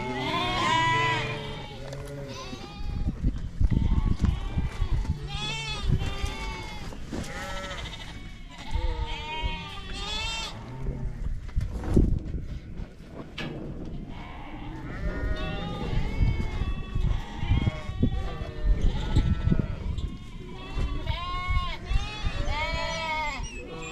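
Sheep bleat repeatedly in the stock yards during drenching, with many overlapping near and far calls, some loud and close, mixed with people talking.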